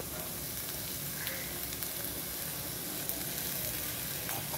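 Capsicum and ginger-garlic paste sizzle steadily in a frying pan for pasta, a continuous close, bright frying hiss with faint stirring ticks and no talk.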